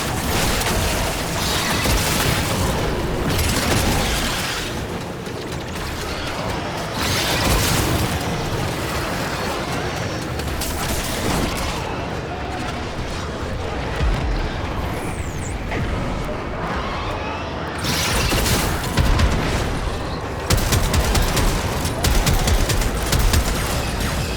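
Explosions and rapid gunfire fill a Warframe mission for nearly half a minute, dense overlapping booms and bursts near and loud, swelling and easing with short lulls.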